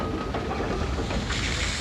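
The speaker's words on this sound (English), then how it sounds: "the engine was put under steam and backed from the shops" Jupiter steam locomotive under steam backing out of the shops, a steady loud hiss and rumble of steam with dull mechanical clanking, continuous and close.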